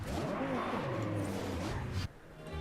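A Lamborghini in the racing game Forza Horizon 5 revs its engine loud and close, the pitch rising and falling in sweeps before cutting off abruptly.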